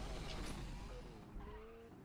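A race car drifting and skidding in the racing game Asphalt 8 Airborne, with a continuous faint engine roar and tire squeal sliding in pitch across the stretch, quiet and steady under game noise.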